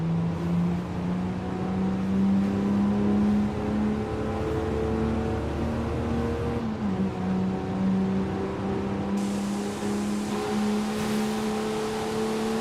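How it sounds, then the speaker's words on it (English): A 3-liter V6 car engine in Forza Horizon 5 drones and revs continuously toward about 7,200 rpm, its pitch climbing and dipping through gear changes, loud and close with no voices. "This has gotta be a 3-liter V6."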